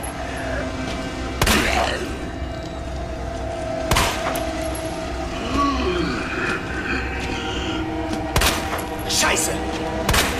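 Gunfire in the Resident Evil 2 Remake video game: several sharp shots at about 1.5, 4 and 8.5 seconds, with a cluster near 9 to 10 seconds, cut through steady ambient rumble and voices.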